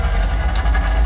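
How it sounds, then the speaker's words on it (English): A Chevrolet Vega wheelstander's engine runs at a steady idle, a low rumbling drone with constant mid-range vibration and no other sounds. "hit the engine start button right here."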